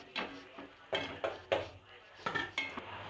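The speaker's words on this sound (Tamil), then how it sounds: "இப்படி எடுத்து இப்படி ஆட்டி பார்த்தீங்கன்னா தெரியும் அப்படி சரசர சரசரன்னு விழும்" Fried raw banana chips rattle and clink in a metal ladle as it is shaken, making several short, crisp bursts close by with brief pauses between them.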